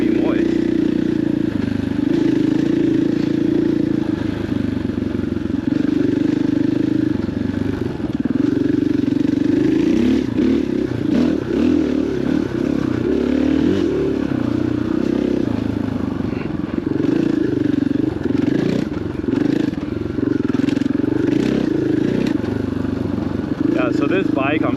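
A dirt bike with stock, slightly soft suspension springs rides a wooded off-road trail at Stonyford OHV, its mid-pitched engine droning and revving steadily over rattling clatter throughout.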